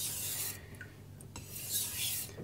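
A knife sharpened on a wet 800 grit Chosera stone, close, bright gritty rasping strokes that pause briefly in the middle and then resume.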